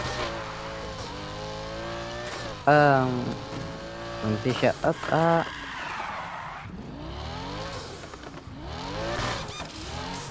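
Lamborghini Huracán in Need for Speed Heat races with its engine rising and falling in pitch, with loud tire squeals and skids midway. Someone speaks briefly over the driving.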